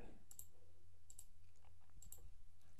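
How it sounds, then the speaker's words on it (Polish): Quiet computer mouse clicks while logging in to a web application, three or four sharp clicks spaced across a low, steady room hum. "Wpisujemy Jan, wpisujemy 123, klikamy zaloguj"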